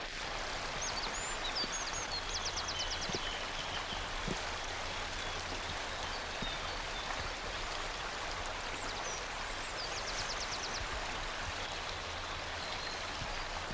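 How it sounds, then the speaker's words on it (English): A hose pours water steadily into a galvanized tub beside a charcoal kiln outdoors. The constant splashing rush is moderately loud throughout, with faint birdsong above it. "water flows steadily into a galvanized tub beside the kiln"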